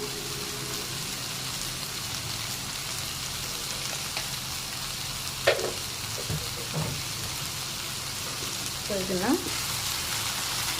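Zucchini curry sizzles steadily in a pan, with a few soft spoon scrapes and clinks of stirring rising above the continuous frying hiss.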